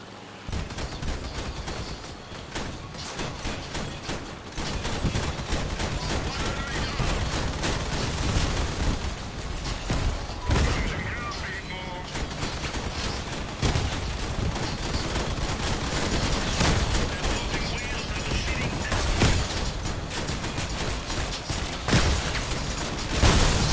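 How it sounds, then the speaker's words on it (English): Auto cannons fire in the Crossout vehicle combat game, a dense, continuous barrage of rapid booming shots that stays loud and steady throughout, with no talking. "let's go make some people mad with my auto cannons."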